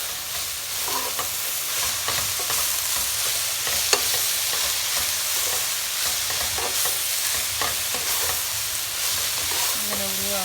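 Food with ground coriander and chili pepper sizzles steadily in a pan while being stirred and mixed, scraping sounds recurring through a loud, continuous fry.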